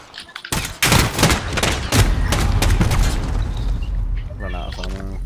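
Pistol gunfire in the video game Modern Warfare in a pistols-only match, a quick burst of sharp close shots followed by further loud cracks and rumble, with someone talking over it.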